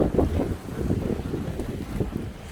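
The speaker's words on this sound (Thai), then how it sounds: "ตอนนี้ฝนตกนะคะแล้วลมก็แรงด้วย" Strong wind roars and buffets a microphone outdoors during rain in the evening, a steady, loud rushing with gusty swells that continues without pause, no voices.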